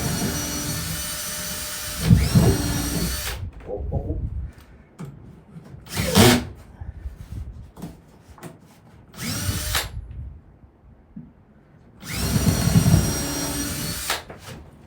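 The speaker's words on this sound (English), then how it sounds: "We're going to drill 2 holes." A power drill bores holes in wood during a workbench build, with about three loud sustained bursts of whirring separated by quieter handling noises and a brief vocal exclamation.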